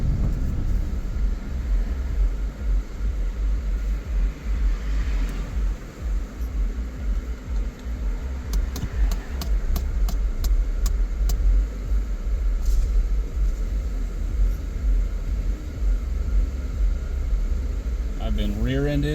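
Steady road rumble of cars moving in traffic around a driver, a continuous low engine and tyre drone throughout with no clear individual passes standing out.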